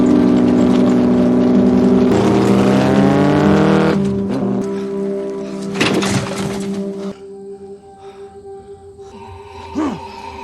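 A car drives hard, its engine revving loudly with rising pitch, then easing off; after a thump the motor quiets to a lower idle, with a brief squeal near the end.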